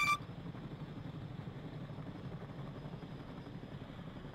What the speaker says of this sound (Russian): Все, у кого вертолет полный, не ждите второй вертолет. Все, пошли, летите.